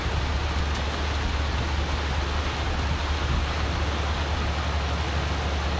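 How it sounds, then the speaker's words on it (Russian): Steady rain falling outside a flat in Mariupol during renovation work, a dense even hiss holding constant at moderate level throughout with no voices. "А на улице дождь усилился."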